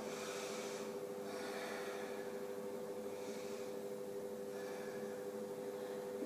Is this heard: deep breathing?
yes